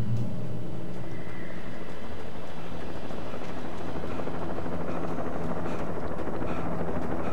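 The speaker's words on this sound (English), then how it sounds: "a helicopter's going to crash, and that'll be my fault too." A helicopter in the video game Alan Wake, a steady, loud rotor drone with a low rumbling throb that holds throughout without speech.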